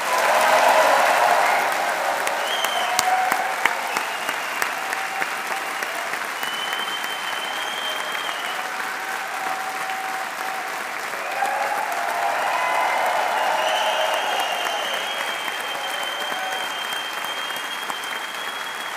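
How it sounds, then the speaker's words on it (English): Graduation audience applauding the class of 2025 in a Faculty of Science ceremony, sustained loud clapping from a large crowd filling the room, swelling again midway, with a brief voice near the start. "I think our students certainly deserve that round of applause after their number of years studying"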